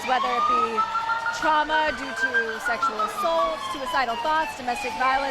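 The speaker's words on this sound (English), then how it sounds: "I believe these are the sirens of the Golden Saber." A crew of sirens in a Gasparilla-style Golden Saber group at a Tampa Pride parade wails in rising and falling tones with overlapping electronic whoops, while a person talks clearly over them.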